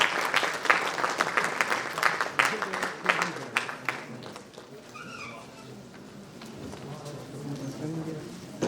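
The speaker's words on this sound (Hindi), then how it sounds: "जोरदार तालियां हमारे दोनों अतिथियों के लिए।" A drama event audience at NCZCC claps loudly for guests for about four seconds, with distinct crisp claps. The applause then fades into a quieter room where pigeons coo and faint voices murmur.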